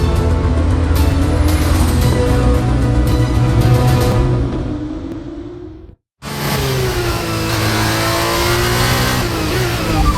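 A racing car on brand new tyres accelerates hard. The engine revs rise through the gears, loud and close, then cut out briefly before the car pulls away again under full throttle.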